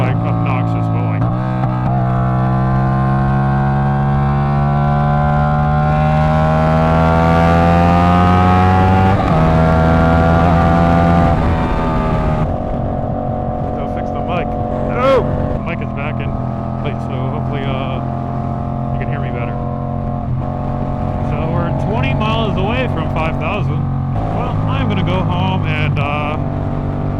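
A straight-piped 450 motorcycle exhaust drones loud and close with a raw, rasping tone, rising and falling through revs and gear changes over a sustained stretch.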